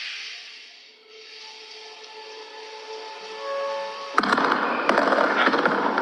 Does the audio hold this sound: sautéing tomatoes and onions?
no